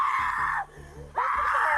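A woman screams in distress at a car accident scene, two loud sustained shrieks separated by a brief lower groaning pause, close and forceful.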